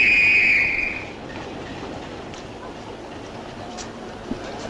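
A 1969 train on the West Coast Main Line gives a short, loud whistle, then pulls away with a faint, steady rolling rumble and occasional clicks.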